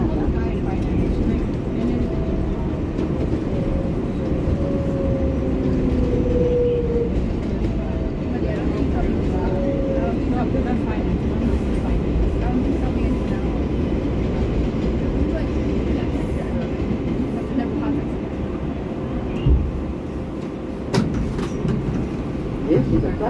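A New York City 7 local subway train of R188 cars rides toward Flushing Main Street, a steady loud rumble of wheels and motors with faint squeals, continuous throughout, with occasional rattles near the end.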